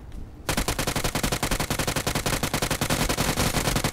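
Rapid automatic gunfire in the video game PUBG, a loud continuous burst of evenly spaced shots running for several seconds after a short quiet start.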